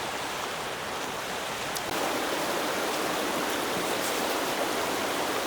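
Blackcomb Creek, a mountain creek, rushing close by as a steady broadband hiss of flowing water that grows slightly louder partway through.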